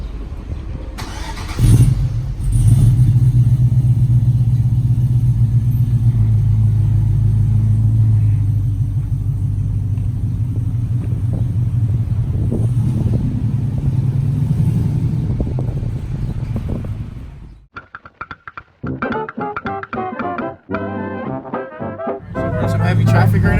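A 2008 Chevrolet Silverado pickup with an aftermarket air-fuel ratio gauge rumbles loudly and steadily at close range for most of the stretch. It then gives way to lighter, broken clattering noise near the end.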